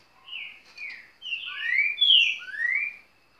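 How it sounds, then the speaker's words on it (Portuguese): A trained songbird sings alone in a bout of bright whistled phrases and rising, sweeping notes that grow louder in the middle before fading, clear and close. "Vê se parece com algum passarinho que canta no torneio lá."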